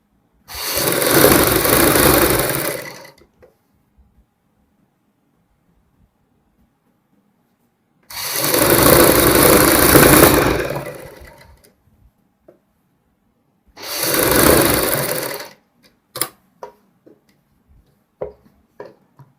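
A sewing machine runs in three bursts while a folded kurti seam is stitched along its marked margin. Each burst lasts a few seconds with quiet gaps between, and light clicks and taps from handling the fabric follow at the end.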